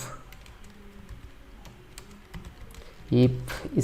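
Computer keyboard typing while a PHP login script is written, a soft patter of keystrokes at close range ending in a louder flurry of taps.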